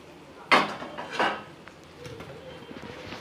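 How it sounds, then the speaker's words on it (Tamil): A metal lid lifted off a pot of frying tomatoes, heard as two quick clanks and a scrape close by, then quieter soft rattling. No one talks. "மூடி எடுத்துடலாம்"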